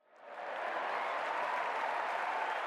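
A large crowd roars and applauds, swelling up quickly from silence into a steady, dense wash of cheering and clapping.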